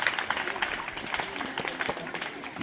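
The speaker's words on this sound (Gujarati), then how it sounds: "તાળીઓથી વધાવી દઈએ" A school quiz audience claps briefly for a correct answer, a soft scattered patter of hands heard at moderate distance with some crowd murmur.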